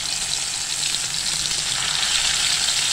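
Ground masala and bay leaf sizzle steadily in hot oil for mutton sukka, a loud, continuous close-up frying hiss with no speech.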